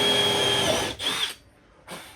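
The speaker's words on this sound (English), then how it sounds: "you want to start it with the drill" A power drill bores dowel holes into wood for a simple dowel joint, a loud whirring run that cuts off, followed by a short second burst, with no talk.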